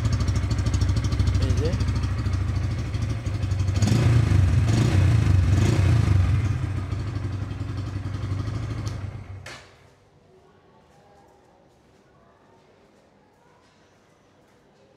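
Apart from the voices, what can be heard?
Bajaj Pulsar N160 motorcycle underbelly exhaust sound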